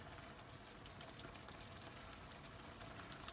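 A splash of liquid, such as cream, is poured into chicken tikka masala cooking in a pan, giving a steady close-up pouring hiss that stays even throughout with no talk.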